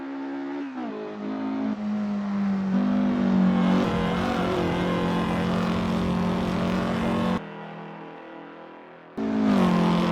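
A vintage race car engine revs hard at speed, its steady droning note rising and shifting with gear changes, loud and close, then dropping briefly before it surges back in.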